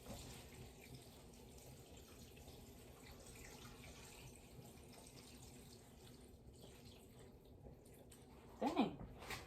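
Tap water runs steadily into a cooking pot being filled for collard greens, a soft continuous rushing that stays even, with a brief louder clatter near the end.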